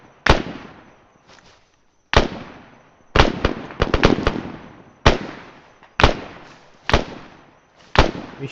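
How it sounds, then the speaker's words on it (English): Arma 3 gunfire, heard as sharp, loud single shots and a quick burst, spaced irregularly with short decaying tails and near silence between them. "He's shooting at something."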